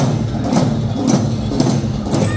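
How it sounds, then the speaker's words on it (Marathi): Dhangari dhol drums pounding in a village procession in Kolhapur, a loud, dense wall of repeated heavy beats with sharp accents roughly every half second and no talk. "धनगरी ढोल वाजले"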